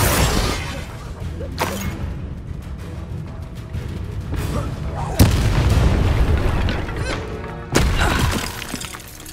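Confringo fire spell explosions in the Hogwarts Legacy video game, several sharp booming blasts with shattering crackle at intervals over continuous game ambience and music.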